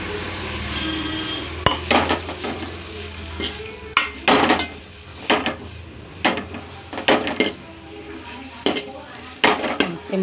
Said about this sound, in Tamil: நம்ம வெங்காயம், தக்காளி, பூண்டு இது எல்லாத்தையும் நம்ம வதக்கிறோம்.